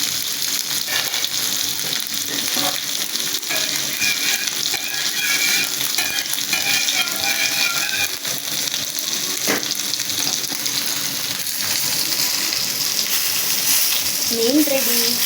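Fish frying in a hot pan for a Sunday lunch, a loud continuous crackling sizzle with occasional stirring scrapes throughout, and a voice briefly audible near the end.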